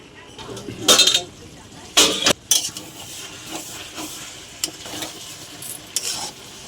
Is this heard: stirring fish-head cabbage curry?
yes